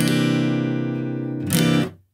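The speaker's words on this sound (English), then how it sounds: "With this one, this is a C9th chord," A C9th chord on guitar, with the third finger barring the top three strings, rings out once and sustains for over a second. A brighter strum follows, then it is damped to silence.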